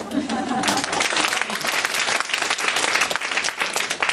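Applause from a church youth vision conference audience, dense and sustained clapping filling the hall for about four seconds, with a brief voice near the start.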